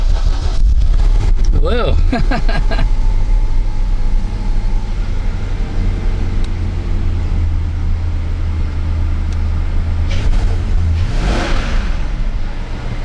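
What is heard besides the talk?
V8 engine starting and revving in a Proton Wira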